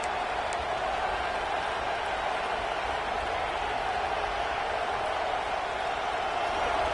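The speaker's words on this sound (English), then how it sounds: "This crowd bringing the energy and noise early." Football stadium crowd at a game, a continuous distant roar of many voices, steady and moderately loud with no distinct cheers or claps standing out.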